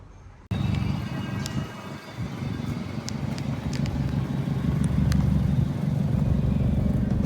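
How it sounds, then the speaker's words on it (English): A rebuilt Subaru WRX engine idles after startup, a steady low rumble with a slight exhaust leak, rising a little in intensity toward the end and heard close up alone. "the cars are running"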